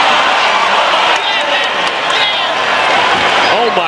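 Arena crowd at a high school basketball game roaring and cheering loudly and continuously after a dunk, with whoops and some clapping throughout, a commentator's voice faint beneath.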